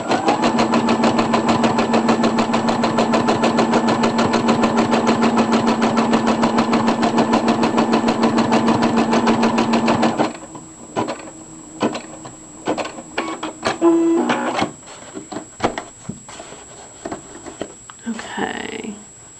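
A Brother SE 400 embroidery machine sews a placement stitch on felt with a loud, steady, fast mechanical chatter for about ten seconds, then stops, leaving scattered handling noises and quiet clicks.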